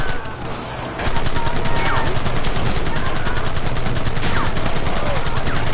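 Sustained, loud rapid gunfire from Red Dead Redemption gameplay, a dense continuous barrage of overlapping shots and machine-gun bursts that swells after a brief opening and keeps going without pause.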